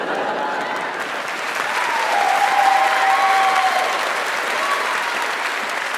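A large debate audience applauds in a steady, dense wash of clapping that swells slightly in the middle and holds for several seconds, with no speech over it.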